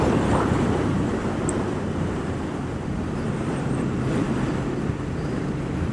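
A 2022 Triumph Thruxton RS motorcycle rolls on the throttle in 6th gear, a steady broad engine and wind roar that holds loud throughout with little change.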